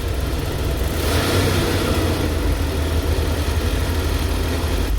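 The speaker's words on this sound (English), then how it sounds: "It's a fairly low idle." A van engine idling low, a loud, steady, close rumble with a dense low-end throb that holds evenly throughout, no voices.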